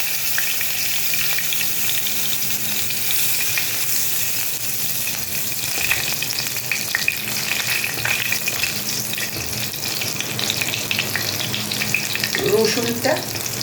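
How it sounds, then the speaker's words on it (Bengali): Chopped garlic sizzles steadily in hot oil in a wok, a loud continuous frying hiss with faint stirring scrapes and a brief clink near the end, no talking. "এবার কড়ার তেলের মধ্যে দিয়ে দেব কুচিয়ে রাখা রসুন"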